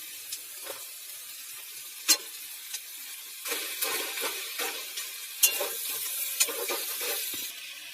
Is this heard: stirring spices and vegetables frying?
yes